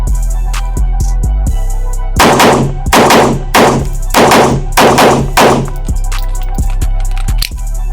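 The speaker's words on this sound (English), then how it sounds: "now we're gonna roll with this Canik subcompact" A Canik subcompact pistol fires a quick, evenly spaced string of about eight loud, close, sharp shots at an outdoor range, with small clicks before and after.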